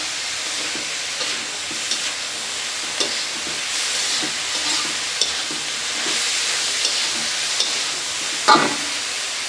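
Spinach sizzles steadily in a hot pan with green chili, onion, garlic and salt, a bright continuous hiss broken by soft scraping stirs and a louder clatter near the end.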